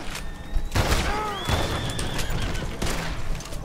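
A horse in the video game Red Dead Redemption gives several whinnies and neighs between loud booms of gunfire, with a busy game soundscape and no speech.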